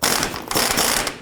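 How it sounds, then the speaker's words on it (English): A ratchet turning a 22mm socket to remove the lower ball joint nut on a 2002-07 Jeep Liberty, a loud, close, continuous clicking whir of the pawl with a brief pause midway. "Using a 22mm socket, we're going to go ahead and remove the nut off of the lower ball joint"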